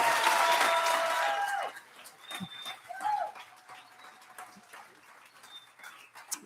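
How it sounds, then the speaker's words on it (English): Applause from the audience at a congressional primary candidate forum: a dense, steady wash of clapping for about a second and a half, then cutting off into a quiet room with scattered faint noises. "How about a proper round of applause for our candidates tonight?"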